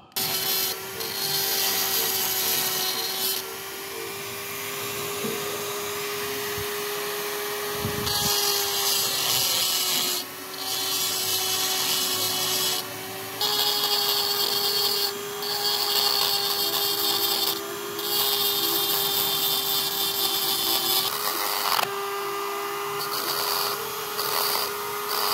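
A small high-speed rotary power tool refines the carving on a handmade replica dagger from the game Tantra Online, whining loudly and close in long stretches broken by brief pauses and shifts in pitch as it bites into the material.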